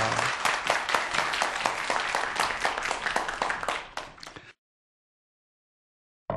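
Audience applause for a mathematics lecturer at a public talk, a full, steady burst of many hands clapping close by for about four seconds before it cuts to silence.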